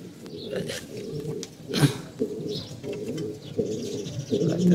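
Pigeons coo repeatedly at close range in a loft, soft rounded calls recurring steadily through the clip with a few chirps mixed in.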